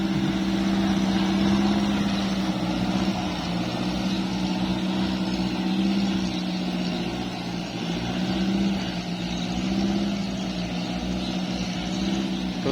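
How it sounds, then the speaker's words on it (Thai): Farm tractor engine running steadily with a low, continuous drone and a throbbing hum, loud and close, without pauses or talk. "รถไถตัวนี้ก็เยอะนะครับ"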